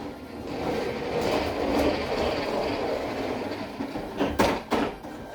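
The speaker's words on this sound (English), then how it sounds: "And that is my daughter riding her little train." A small ride-on toy train carries a child along with a continuous mid-level rumble, ending in a few sharp clacks and knocks near the close.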